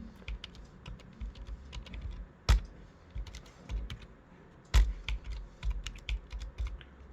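Fingers tap out a short burst of keys on a computer keyboard, light quiet clicks with two sharper key strikes standing out, heard alone.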